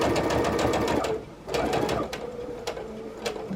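A sewing machine stitches a jelly roll quilted table runner, whirring in a close, steady run that briefly pauses, then resumes with softer clicks and a few short stitching bursts.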